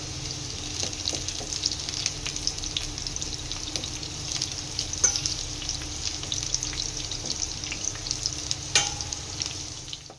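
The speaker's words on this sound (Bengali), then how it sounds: "এগুলোকে লাল লাল করে ভেজে তুলে নেবো" Tengra fish, potatoes and cauliflower frying in hot oil, a continuous close sizzle with scattered crackles and pops and occasional stirring clinks, no talking.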